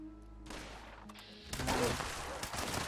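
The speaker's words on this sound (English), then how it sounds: "Keep the gunfire to a minimum, please." Quiet bursts of rapid gunfire in the video game Fallout 76 crackle in the distance, a short volley followed by a louder, denser barrage.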